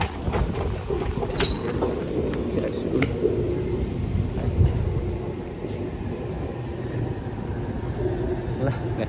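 Ride aboard a moving metro train: a continuous low rumble and rattle of the carriage fills the whole stretch, with a few sharp knocks and clicks, while people talk over it.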